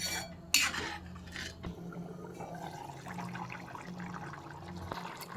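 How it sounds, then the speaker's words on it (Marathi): Paneer tikka marinade being stirred in a bowl for a couple of minutes, a soft, steady wet mixing sound with a sharp clink near the start, close and fairly quiet. "चांगला असा मिक्स करून घेते ना, जरा 2 मिनटं असं मिक्स करून घ्यायचा।"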